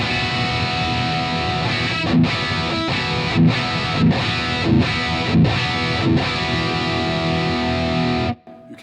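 Heavily distorted high-gain electric guitar on the bridge pickup strums a sustained chord progression in a metal style, loud and dense, with short breaks between chord changes before it is cut off abruptly.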